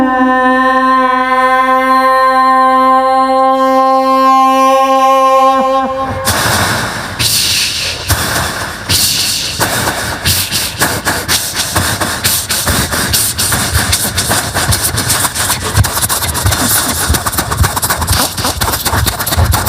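A voice imitates a train pulling out and gathering speed, starting with a sustained whistle-like hoot and then shifting into rapid, rough, chugging rhythmic puffs that continue loud and close.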